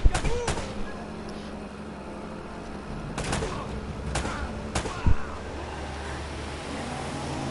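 Scattered gunshots ring out in an Uncharted: Drake's Fortune firefight, a few sharp cracks spread over several seconds against a low rumbling background with voices talking.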